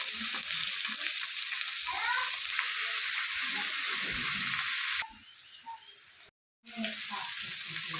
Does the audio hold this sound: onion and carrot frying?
yes